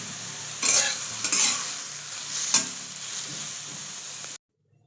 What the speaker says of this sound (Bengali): তো এইদিকে এইদিকে আমার আলু বেগুন ভাজাটা হচ্ছে